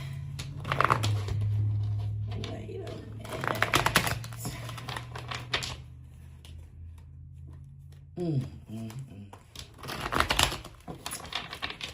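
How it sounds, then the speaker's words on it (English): Tarot cards shuffled by hand, heard as several crisp broadband riffling bursts over a steady low hum, with a brief murmur of voice partway through. "I'm just sitting here shuffling and I'm about to start talking"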